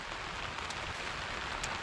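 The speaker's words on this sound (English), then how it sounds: "It's raining too much to go anywhere." Steady rain falls on a campsite in spring, where snow still lies about, and it comes through as a continuous, even hiss of drops on surfaces with no talking.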